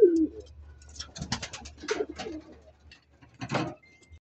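Racing pigeons arriving back at the loft after a 121 km race from Agdangan, Quezon, with a close coo, brief wing flutters and scattered chirps over a low steady hum.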